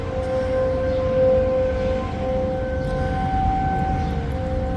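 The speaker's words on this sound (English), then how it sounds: "Oh, the tornado sirens." An outdoor tornado warning siren sounds during a thunderstorm, a sustained droning wail with steady tones, carrying loud and continuous with no talk over it.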